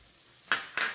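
Garlic, ginger and rice vinegar stirred in a pan for lettuce wraps, heard as two quick utensil scrapes and clinks against the pan, close and brief over a quiet background.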